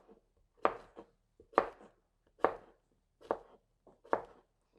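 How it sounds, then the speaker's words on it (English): Vegetables chopped with a knife on a board, five distinct knife strokes in a steady rhythm, close and fairly clear with quiet gaps between, no talk. "We turn it round and we're going to chop."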